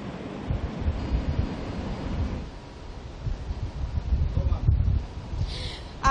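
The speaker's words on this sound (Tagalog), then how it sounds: "makikita nyo yung malakas na alon ngayon" Strong surf pounds the shore at Daet, Camarines Norte, a surfing spot, as a typhoon passes, with gusting wind buffeting the microphone; the rumbling, uneven wash of the waves stays loud throughout, and a voice is faintly present.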